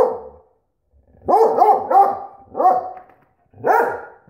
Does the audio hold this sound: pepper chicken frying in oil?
no